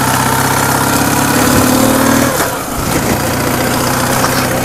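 A Ural motorcycle engine is ridden through winter snow; a steady mid-pitched drone runs close by, then the throttle is cut after a gear shift, and the engine note sags briefly before settling back into a lower hum.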